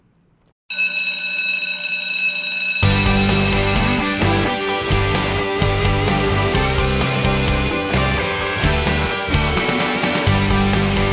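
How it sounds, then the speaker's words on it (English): A bell rings out loudly and persistently, a bright sustained clanging that starts after a brief quiet moment and keeps going. "But I think that bell keeps ringing."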